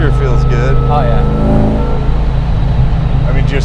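A 1971 Camaro restomod with a supercharged LS9 engine being driven, a loud low engine drone and rumble from inside the car, with people talking over it.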